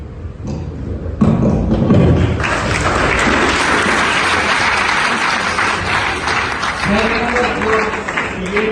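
Dense applause from a student audience in a college hall, starting after a short pause and swelling into loud, sustained clapping, with a few thumps and faint voices near the end.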